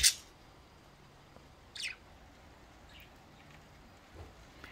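Pet budgies chirp outdoors in California on a rainy day, two sharp calls standing out with fainter chirps between them against a quiet background.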